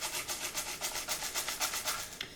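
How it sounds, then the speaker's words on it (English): A homemade rain stick shaken back and forth in a quick, steady rhythm, producing soft hissing rattles of pellets in repeated pulses, close and fairly quiet with no voices. "So if you were able to make your rain stick a few weeks ago, you can get that shaking sound from there."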